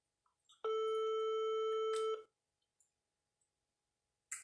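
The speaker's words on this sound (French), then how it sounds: "je vais encore appeler Natacha pour voir si elle est connectée." A telephone call tone holds steady for about a second and a half, loud and clean, with a few soft clicks before and after and no talk.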